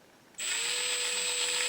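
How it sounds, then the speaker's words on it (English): Power drill starting up and running steadily, a sudden high whine that holds at constant speed, fairly close and alone. "If I'm running this drill like this"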